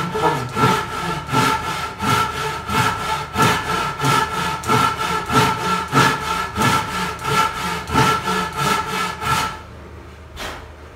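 A hand saw rasps through wood in steady back-and-forth strokes during a workbench build, close and loud, about twenty strokes before stopping, then one final short stroke.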